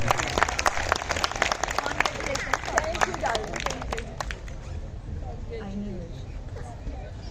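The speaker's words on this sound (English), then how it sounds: "please big a round of applause for the winners" An audience at a school prize distribution ceremony applauds the award winners, with dense clapping that is loud at first and then thins out, while a voice speaks over the end.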